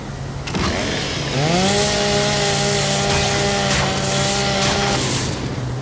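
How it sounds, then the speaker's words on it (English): A revving chainsaw weapon in the video game Gears of War 5 starts with a rising whine, then holds a loud, steady buzzing drone for several seconds before cutting off, with no talk over it. "I like this chainsaw in this game."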